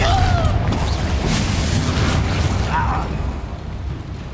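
A Confringo fire spell explodes in Hogwarts Legacy, a loud, rumbling boom that stays heavy for about three seconds and then slowly fades.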